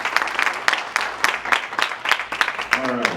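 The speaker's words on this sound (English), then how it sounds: "You want to give them a big round of applause?" An audience at a training session claps in a short round of applause, with individual claps distinct and fairly close, and a brief voice cutting in near the end.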